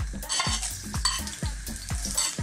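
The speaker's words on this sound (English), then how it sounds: "I'm simply going to drop in a little bit of sliced garlic" Sliced garlic fries in sesame seed oil with a crisp sizzle, while a utensil scrapes and stirs it in a regular rhythm of about five strokes, close up and without talk.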